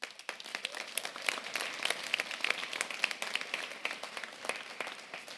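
A church congregation claps for the Lord during a sermon, a moderately loud burst of many hands clapping with uneven, busy rhythm and a few sharper claps standing out.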